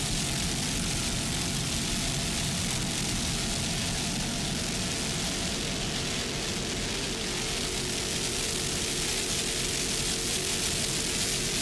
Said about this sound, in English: Just listen to those two 900-horsepower inboards.